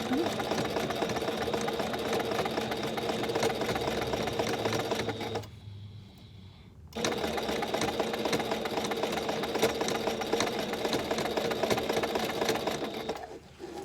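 A sewing machine runs a straight stitch along a thick denim hem with a fast, even mechanical whir that stops for about a second mid-way, then starts again and carries on, close and steady.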